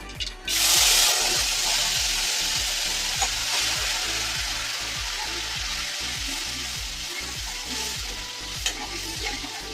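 A spoon stirs tomato puree and garlic chutney as they fry in a pan, with steady sizzling throughout and repeated scraping strokes against the pan at a regular rhythm, heard up close.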